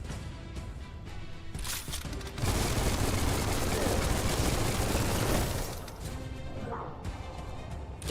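Gunfire in the video game Biomutant: a dense volley of shots and crashing impacts swells loud midway, then eases back into scattered bursts over a busy game mix.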